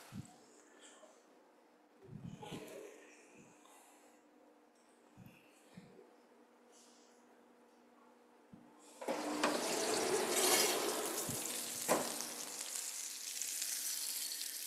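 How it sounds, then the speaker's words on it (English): Lamb frying in a pan and being basted with oil: faint kitchen clatter and knocks at first, then a loud, steady, close sizzle that swells and continues to the end. "The lamb I'm just going to turn. Basting with the oil so I can achieve a more equal cooking."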